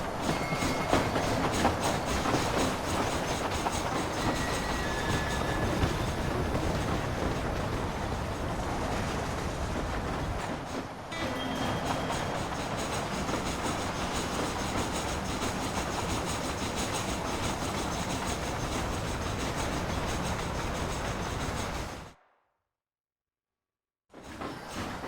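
Train running in Red Dead Redemption, a steady, loud rumble with rhythmic rail clatter that fills the scene, then breaks off briefly into near silence near the end before resuming.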